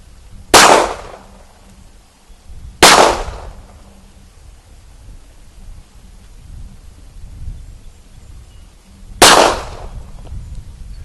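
An EAA Witness pistol fires three sharp, loud shots at a shooting range, the first two about two seconds apart and the third after a longer pause, each followed by a short echoing decay.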